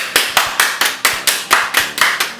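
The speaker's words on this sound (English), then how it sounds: "Clap if you believe in Zesty!" Slow, deliberate handclaps, about ten evenly spaced sharp claps from one or two people close by, in a quiet room with no talking.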